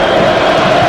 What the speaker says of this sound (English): That cheer was as loud as if a goal had been scored from these Tunisian supporters.